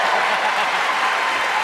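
Studio audience on a French TV game show breaks into steady, dense applause, a sustained crackle of many hands clapping at close range throughout.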